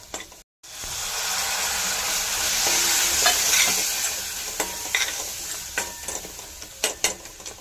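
Spice masala roasts in oil for a rustic eggplant-potato dry dish, a continuous close sizzle with spoon scrapes that grow into sharp, spaced clicks and taps toward the end, loud and without talk.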